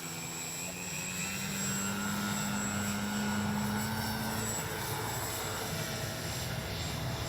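A Dynam Tiger Moth RC model biplane flies outdoors in wind, its small electric motor giving a steady buzzing drone mixed with wind noise, moderately distant.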